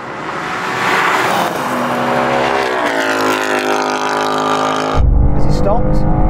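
A Mustang V8 and a BMW M2 accelerate hard in a drag race, loud rising engine roar with climbing pitch, then an abrupt shift to closer wind and engine noise.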